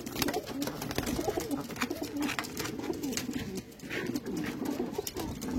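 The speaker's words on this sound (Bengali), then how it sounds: "যারা ম্যাচ খেলতে চায় তাদের জন্য একদম ফ্লাইং রেডি পায়রা," Flock of flying-ready patta pigeons, including red-vein and black-vein birds, cooing steadily and close by, with low throaty coos overlapping in a continuous murmur and no talk.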